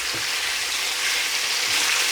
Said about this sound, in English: So after 2 minutes of frying this, I'm now going to take it out and put it onto a plate